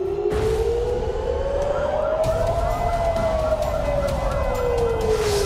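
Fire truck sirens wail loudly and continuously, one tone sweeping slowly up and then back down over a dense roar of traffic and crowd noise.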